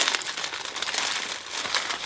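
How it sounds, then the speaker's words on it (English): Thin plastic packaging crinkling and rustling close up as a pair of gloves is handled, a soft, busy crackle of irregular crumples with no talk. "Sorry about the plastic noise."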